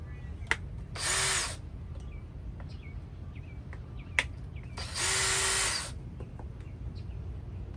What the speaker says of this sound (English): the drill is used to take them off.